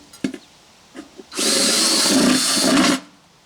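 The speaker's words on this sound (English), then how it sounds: "we'll drill it out to the size of our bolts" A power drill bores out a hole in a thin metal maple sap bucket, starting after a few clicks and taps and running as a loud, steady whine for about a second and a half before stopping.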